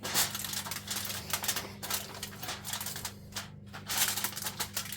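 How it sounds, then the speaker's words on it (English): Tin foil crinkles and rustles in quick, irregular bursts as it is pressed over a venison roast, close and fairly quiet. "Cover with tin foil."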